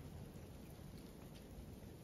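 Freezing rain falls steadily outdoors over a driveway, a dense, continuous hiss of drops at constant loudness with no voices.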